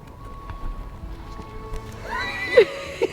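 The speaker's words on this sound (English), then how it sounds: "This is also their horses, and these are all babies." Horses whinny in a pasture with hoof clops, rising to loud neighs near the end over faint background sound.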